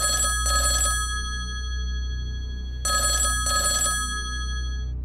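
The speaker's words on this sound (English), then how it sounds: "the phone rings again" A telephone rings in two bursts of double trills, each pair lasting about a second with a gap of nearly two seconds between them, loud and clear over a low hum.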